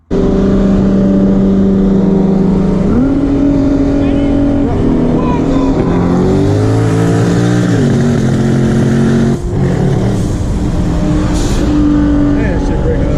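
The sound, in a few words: Ford Mustang Coyote engine revving with misfire breakup during race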